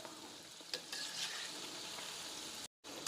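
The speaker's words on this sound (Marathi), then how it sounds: "असं झाऱ्याने आपण एकसारखं खालीवर करून घ्यायची शंकरपाळी" Shankarpali frying in hot oil on low to medium heat, a steady dense sizzle running throughout, with a few brief scrapes and stirs as a slotted spoon turns the pieces, a short silent gap near the end.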